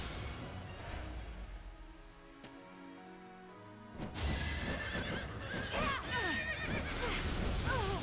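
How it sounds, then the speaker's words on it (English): A horse whinnies loudly after a quieter stretch in the video game Fire Emblem: Three Houses, with clip-clopping hooves and game background sounds around it. "Looks like Ash is staring at a horse."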